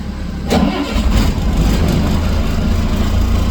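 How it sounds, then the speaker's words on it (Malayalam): A KSRTC bus engine starts at a Vithura bus station and then settles into a loud, steady, close rumble as the bus gets ready to leave. "കൃത്യം അഞ്ചു മണിയോടെ ബസ് പുറപ്പെട്ടു"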